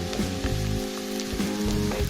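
Garlic sizzles in a hot pan alongside onions, a steady crackling fry that holds at an even level throughout, with faint background music underneath.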